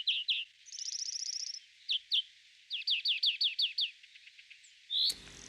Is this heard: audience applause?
no